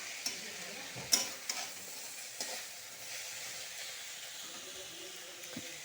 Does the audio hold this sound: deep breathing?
no